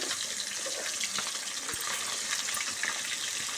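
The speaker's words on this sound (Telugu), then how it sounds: "ఇలా మంచిగా వేయించుకోవాలి మంచిగా వేగుతున్నాయి కొంచెం అయినాక మళ్ళీ ఒకసారి తిప్పేస్తున్నాం" Fish fillets sizzle steadily in hot oil in a pan, a dense continuous crackle and hiss with scattered pops and spits, close and even throughout, no voices.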